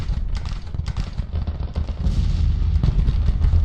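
Artillery firing in the Civil War strategy game Grand Tactician: The Civil War, a dense run of deep booms and cracks rolling on without pause at steady loudness, a distant-sounding battle rumble.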